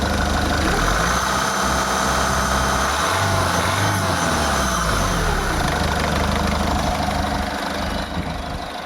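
A 2011 Ford Figo diesel engine runs close and loud, a steady rough clatter with its pitch rising and falling briefly midway as the accelerator is pressed, then settling back toward idle.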